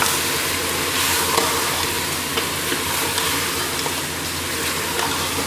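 Ginger-garlic paste and masala fry in a pan for achar gosht, an Eid dish, giving a steady, dense sizzle with soft stirring scrapes throughout and no voices.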